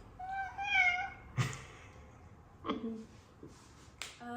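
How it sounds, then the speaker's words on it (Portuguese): A cat meows several times, with a drawn-out call at the start and shorter meows later, close and fairly loud against a quiet indoor background. "ele tá miando há 3 horas"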